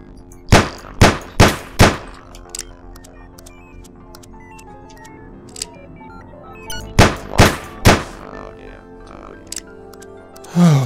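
Gunfire in the video game Sir, You Are Being Hunted: a quick burst of four loud shots, a long lull with faint game noise, then another burst of four shots and a final sharp report at the end.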